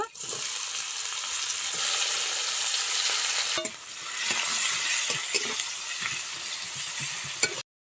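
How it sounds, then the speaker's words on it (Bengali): Onion hits hot oil in a Bengali home kitchen and fries with a loud, steady sizzle, broken by scraping stirs of the spoon across the pan. "তেল দিয়ে দিয়েছি পেঁয়াজটা এখন দিয়ে দেব"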